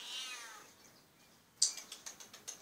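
A kitten on the roof of a house gives a high, drawn-out meow and then a rapid run of short, sharp mews, close by and clear against a quiet background.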